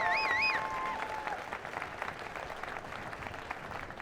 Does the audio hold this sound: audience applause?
yes